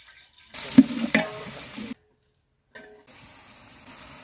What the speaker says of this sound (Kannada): ಎಣ್ಣೆ ಬೆಳ್ಳುಳ್ಳಿ ಹಾಕತ್ತಾ ಇದ್ದೀನಿ.